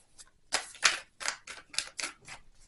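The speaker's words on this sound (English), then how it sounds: "One more shuffle." Tarot cards being shuffled make a quiet series of short, crisp riffling bursts, about six in quick succession, close by with no talking.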